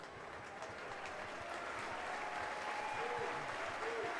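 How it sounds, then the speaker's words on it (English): Applause from the South Stand at a 2011 Leeds v Hull rugby league playoff rolls on steadily, a dense, distant clatter of clapping that fills the stadium throughout. "the South Stand applaud young Ben Jones-Bishop, 23 years of age"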